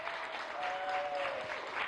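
Steady, dense audience applause for John Edwards fills a panel-discussion hall on political language, sustained at an even level throughout.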